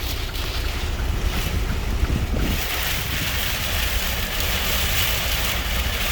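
Heavy rain and gusting wind batter a truck parked off the I-90 westbound near Kimball, South Dakota, during a sudden storm, a steady loud roar of drumming and buffeting with no voices.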